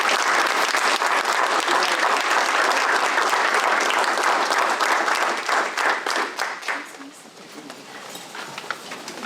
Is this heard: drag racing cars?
no